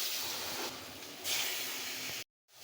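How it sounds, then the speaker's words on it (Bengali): Kalidas fish pieces, dusted with cornflour while still partly frozen, fry in hot oil in a pan, giving a steady loud hiss that swells midway and cuts off abruptly near the end. "তো মাছগুলো একটু হালকা ভাজা দিয়ে নিব।"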